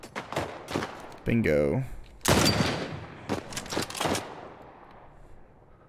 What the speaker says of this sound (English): This is one powerful sniper.